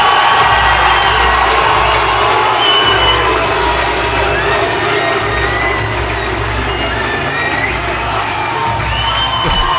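A dense, roaring crowd at a cage fighting event in Bradford, with cheers and shouts swelling continuously and loudly, filling the hall as spectators rise to their feet.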